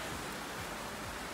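Rain falls as a dense, even hiss, steady and unbroken throughout.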